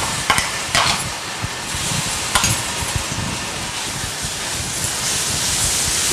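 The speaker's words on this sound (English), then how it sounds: "And to this we'll add our chutney, remainder half chutney." Chutney added to hot oil with turmeric and asafoetida while making Gujarati undhiyu, giving a continuous close sizzle broken by several sharp clinks and scrapes of a spoon in the pan.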